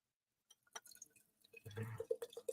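Cider (sidra) being poured into a glass indoors, a short burst of liquid splashing and trickling with a few drips before and after, close and fairly quiet.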